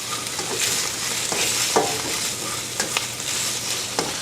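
Ginger and garlic stir-frying over high heat for a spicy Szechuan green bean dish, a steady close sizzle broken by scraping stirs and a few sharp crackles, with no talking.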